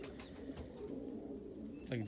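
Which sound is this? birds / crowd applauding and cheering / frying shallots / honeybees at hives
birds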